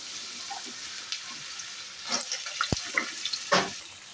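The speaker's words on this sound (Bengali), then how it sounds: "এরপর আলুগুলো নুন আর হলুদ দিয়ে ভেজে নিচ্ছি" Potatoes frying in mustard oil with salt and turmeric in a pan, a quiet steady sizzle with a few sharp clinks and stirring scrapes.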